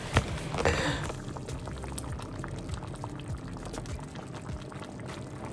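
A pot of Ghanaian palm nut soup (abenkwan) bubbles steadily. Small pops and blips burst close by over a low simmering wash, with a brief pouring splash near the start.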